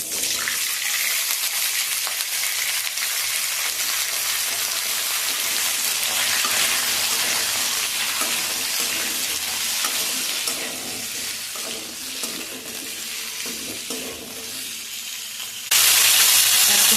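Thinly sliced potatoes fry and get stirred in a pan for a spicy potato jhal, with a loud, steady, dense sizzle throughout and a brief harsher hiss burst at the very end.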